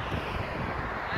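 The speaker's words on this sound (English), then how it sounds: "It is very windy." Steady wind buffeting a microphone during a drive across Crete, a constant broadband rush with no breaks and no talking.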